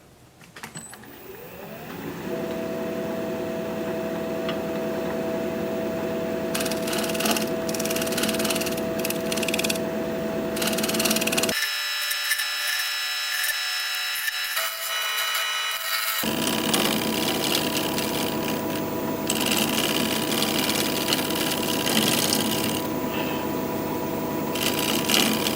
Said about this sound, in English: And some shear scraping here.